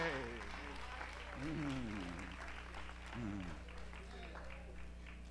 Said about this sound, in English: Let's clap your hands, all you people